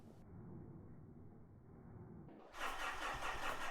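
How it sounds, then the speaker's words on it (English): A Fuso 4P10 diesel engine cranks with a steady low, chugging rumble, then catches into a louder, rough broadband roar for the last second, recorded up close with no talking. "Wow, this engine shakes a lot when it's trying to start."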